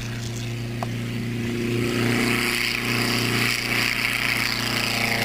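A Lobet Ganagobie light aircraft takes off from a warm sealed runway, its engine droning steadily and growing slightly louder as it climbs, with wind noise over the top.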